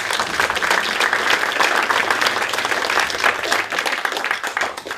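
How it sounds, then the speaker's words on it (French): Audience applause at a round-table conference, sustained dense clapping from a seated crowd, fairly even and moderately loud before thinning slightly toward the end. "On peut l'applaudir."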